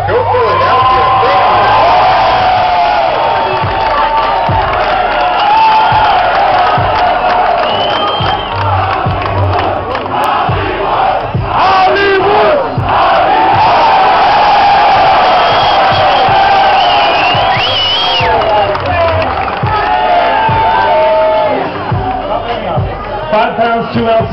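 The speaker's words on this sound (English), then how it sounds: "Man, this is an amazing crowd." A big crowd at a Bassmaster Elite Series bass fishing tournament weigh-in on the Delaware River in Philadelphia roars with sustained cheering, whoops and shouted calls, loud and continuous, with babbling voices mixed into the din.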